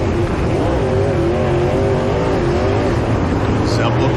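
Race cars roar continuously through a 40-lap main event, with engines droning loud and close under a commentator's voice.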